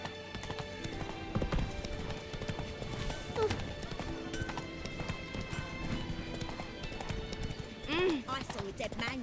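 A horse gallops in The Witcher 3, with rhythmic hoofbeats under game music and ambient sound, a couple of brief snorts or whinnies, and a voice speaking over it.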